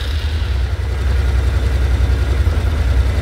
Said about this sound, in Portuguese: Nós vamos dar partida agora na moto, certo?